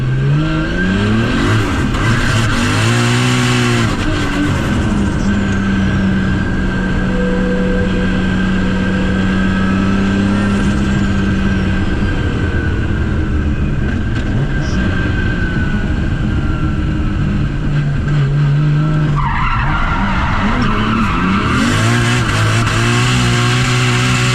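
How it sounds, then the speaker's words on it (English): A loud turbocharged 550-horsepower 2JZ car engine revs and accelerates through several gear changes, with rising and falling whine and a constant roar throughout. "The turbo is super loud."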